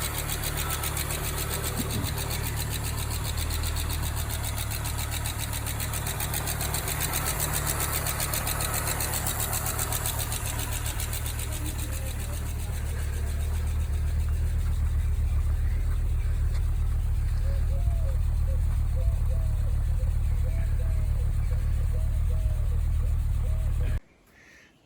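An Audi 100 turbo quattro engine runs steadily after sitting eleven years, a continuous low idle with a rough ticking rhythm, fairly close, until it cuts off at the very end.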